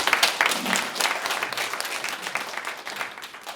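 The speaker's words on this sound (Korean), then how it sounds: "큰 박수 보내드립니다." Steady applause from a congregation at a Christian early-morning prayer breakfast, dense clapping that holds at an even level for a few seconds without any talking.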